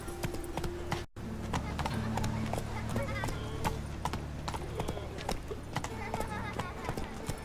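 Roach the horse gallops in The Witcher 3, hooves pounding in a steady, rapid rhythm. The sound is close and continuous, with a brief dropout near the start.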